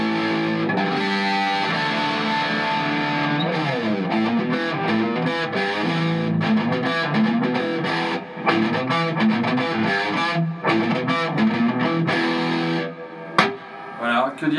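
A Yamaha RS 620 electric guitar through a reverb pedal plays a continuous, sustained passage with a wide, washy reverb tail blending the notes together, loud and up close.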